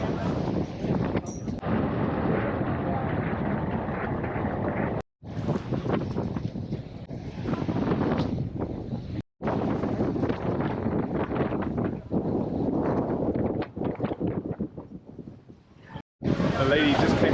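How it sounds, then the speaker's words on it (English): Strong wind at Niagara Falls buffets the microphone in continuous heavy gusts, a roaring rumble with only a couple of brief drops to silence. "It's very windy out here today."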